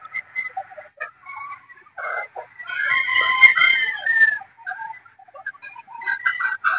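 Boston Roundhead gamefowl roosters crowing and clucking in a farmyard, several birds calling in bursts with a long overlapping crow in the middle, fairly close.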